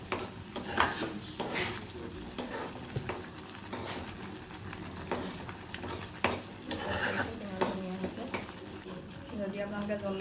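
Tomatoes cook in a pan for an Assamese matar aloo sabji while a spoon stirs and scrapes in repeated strokes over a soft sizzle, with a voice talking at times.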